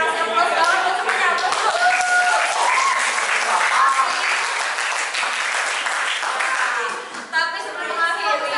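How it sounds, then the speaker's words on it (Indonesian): Classroom applause for students after group work, sustained clapping from a group with voices mixed in, loud and steady throughout. "Saya kasih aplaus banget untuk semuanya."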